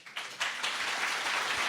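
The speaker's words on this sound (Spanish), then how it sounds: "Merecidísimo el aplauso" Applause from a talk audience at a sexuality conference, a dense wash of many hands clapping that swells after a soft start and then holds steady and fairly loud to the end.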